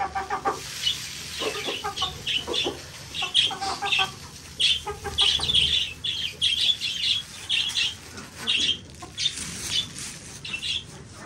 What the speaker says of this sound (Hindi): देखें सारे कबूतरों को भूख लगी हुई है